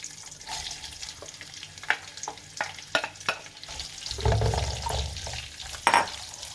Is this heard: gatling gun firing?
no